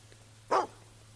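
A dog in the video game Fable II gives a single sharp bark, then a second bark starts right at the end, both close and clear over a quiet, steady low hum.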